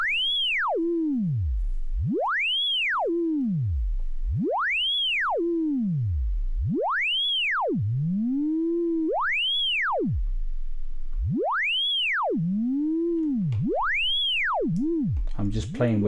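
A modular synthesizer tone modulated by a Mutable Instruments Kinks utility module, repeatedly sweeping up and falling in a steady cycle of arcing pitch glides about every two seconds, with a voice talking quietly underneath.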